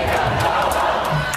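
Protesters at a Minneapolis demonstration boo the city's mayor, a loud, dense crowd roar close at hand with shouted voices rising and falling over a brief stretch.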